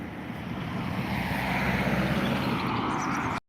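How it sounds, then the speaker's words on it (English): An Aer Lingus Airbus A320-214 taking off at Dublin Airport, a loud, steady broadband jet roar with windy rush that holds at full strength before cutting off abruptly. "we have an Aer Lingus Airbus A320-214 registered as EIGAL, ready for takeoff, heading over to Seville"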